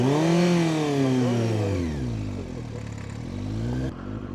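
A motorcycle rides at slow speed with the clutch slipped during learner slow-control training, its engine revving close and clear, then easing to a lower idle-like throb with slight rises in pitch.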